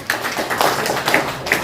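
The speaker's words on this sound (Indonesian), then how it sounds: "tepuk tangan dulu dong" Scattered claps from a seminar audience at an Islamic business event in Palu, a few sharp separate slaps over roughly a second and a half rather than full, dense applause.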